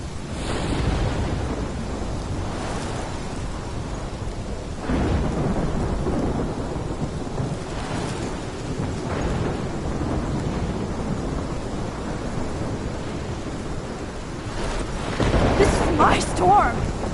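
Thunderstorm in the video game Life is Strange, with continuous rain hiss, deep rolling rumbles of thunder and a heavier crack toward the end, while a voice speaks faintly within the storm.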